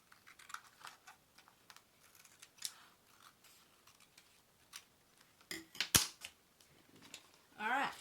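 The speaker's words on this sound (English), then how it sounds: "So now I can just go down the side of the page and trim it to size." Scissors trim the edge of a journal page to size in a series of quiet, close snips, with a few sharper clicks and a rustle of paper near the end.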